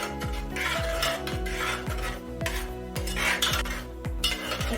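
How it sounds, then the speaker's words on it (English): A spoon stirs Weetabix porridge in a pot in a quick repeated rhythm of scrapes and soft knocks against the metal, close and steady throughout with no talking. "So just give it a stir, it's alright."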